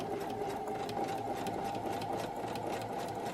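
A sewing machine stitches elastic onto bikini fabric in a steady, continuous run, its rapid mechanical whir and needle chatter close and even throughout with no pauses.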